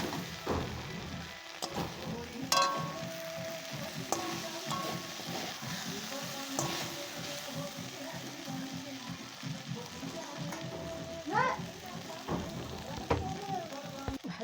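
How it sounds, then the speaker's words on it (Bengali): Food fries in a kadai wok until reddish, a low, steady sizzle with occasional spatula scrapes and clinks, moderately close and continuous across the clip. "এই সুন্দর লাল লাল করে হয়ে যাচ্ছে ভাজাটা। তো ভালো করে ভাজতে হবে এটাকে।"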